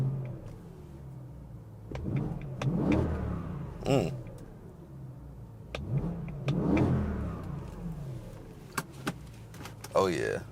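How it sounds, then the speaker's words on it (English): A BMW E90 M3 engine is revved repeatedly, with rising and falling throttle blips about every two seconds and a final sharp rev, heard nearby with brief voices in between. "Let's see what that engine sound like."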